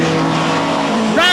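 320-horsepower 2.3-litre BMW M3 race cars roar loudly and steadily at a 1989 British Touring Car Championship round, with engine pitch climbing near the end as a commentator talks over the noise.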